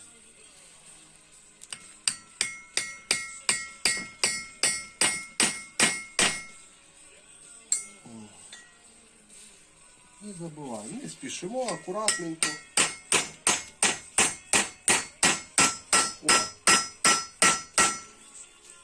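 A hammer taps valve stem seals into a 2.0 TDI cylinder head in a steady, rapid rhythm, two long runs of ringing metal blows separated by a pause with brief quiet speech.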